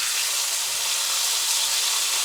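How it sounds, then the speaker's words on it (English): Steady, loud broadband sizzle of seasoned steak frying in a hot pan, continuous and close, with no voices. "Listen to that sizzle its head off."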